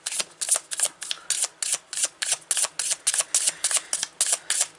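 Tarot cards are shuffled and pulled in a quick, regular series of crisp papery bursts, about three per second, close and steady with no talking.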